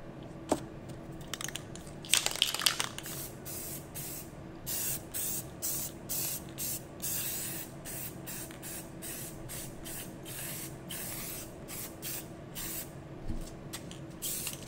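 Short hissing bursts of spray paint onto foam board repeat in a steady rhythm, close and fairly quiet, each spray lasting under a second.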